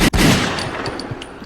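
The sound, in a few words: gunshot sound effect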